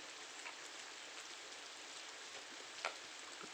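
Steady rainfall, the first rain of the year, pours down in a rural Thai rubber plantation as a dense even hiss of drops with a brief louder patter near the end, no voices.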